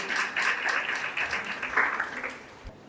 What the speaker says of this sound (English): a big round of applause for contestant number 1 for today.